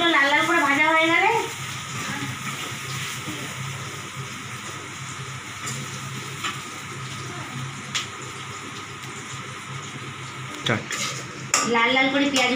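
Onions fry in oil left from frying fish heads, with metal spatula scrapes and clinks against the pan over a soft sizzle; a voice talks at the start and end.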